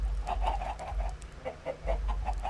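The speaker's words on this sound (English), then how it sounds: "Wow, so many turkeys." A flock of turkeys gobbling, rapid clucking bursts in quick succession over a low steady hum, moderately close and continuous, with no speech.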